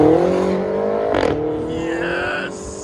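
Catless 2015 BMW X5 M with downpipes, 570 hp, revving hard, a loud close exhaust roar that climbs in pitch and then drops off, with a brief higher burst in the middle and a short voice underneath.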